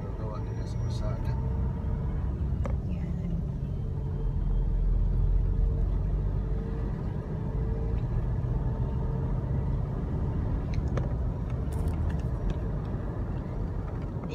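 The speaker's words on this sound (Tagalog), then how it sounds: "hindi heavy ang traffic na yan" Road traffic in Metro Manila during Line 7 construction, with a steady low engine rumble from nearby cars and occasional faint clicks and horn-like tones under the hum.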